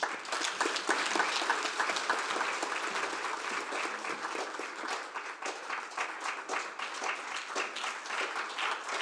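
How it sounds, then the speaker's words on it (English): A crowd applauds steadily, many hands clapping in a dense, continuous wash that slowly tapers but keeps going. "A round of applause, please."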